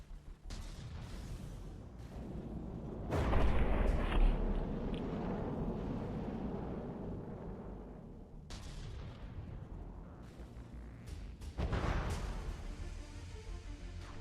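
A torpedo launches in the naval battle game From the Depths with a heavy thudding boom and a long rumbling wash, followed by further dull booms against steady background rumble.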